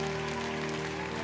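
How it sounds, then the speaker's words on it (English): Church congregation clapping at an Easter Sunday service, a steady dense wash of applause filling the whole moment at moderate level with no voices over it. "give the Lord a clap offering that he is worthy of it today"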